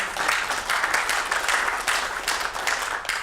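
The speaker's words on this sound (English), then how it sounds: "clap it up for that." Conference audience at a RubyHACK programming talk claps loudly and steadily, a dense wash of many hands with rhythmic surges, without speech.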